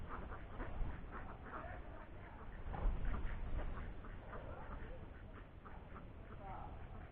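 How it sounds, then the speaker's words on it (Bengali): Ducks quack repeatedly as they run through a village setting in Tangail, Bangladesh, with steady outdoor ambience and faint voices in the background. "এই যে হাঁসগুলো দেখেন কিভাবে করে দৌড়াচ্ছে।"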